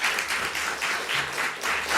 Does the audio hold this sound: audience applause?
yes